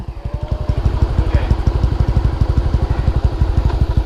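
A tired old motorcycle engine idles close by on a Sunday-morning ride to Embung Nglanggeran in Gunungkidul, its rapid, steady low putter pulsing evenly with a light rattle throughout.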